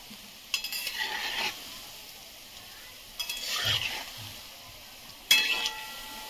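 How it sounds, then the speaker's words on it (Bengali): Raw banana koftas fry in hot oil with soft sizzling, broken by three scraping stirs of a spoon or spatula. "এখন বাকি কোপ্তাগুলো ভেজে নিচ্ছি"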